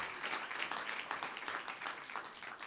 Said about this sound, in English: Clap for her. Give it up, give it up, give it up.